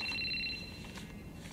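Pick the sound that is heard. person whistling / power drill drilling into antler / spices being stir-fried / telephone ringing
telephone ringing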